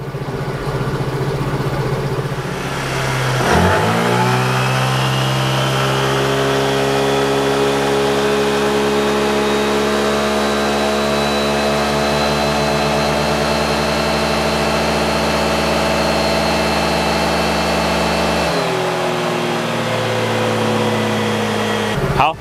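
A motorcycle engine on an eddy-current dynamometer at high rpm, around 8,800: it revs up sharply, holds a loud, steady, buzzing drone for about fifteen seconds, then drops back.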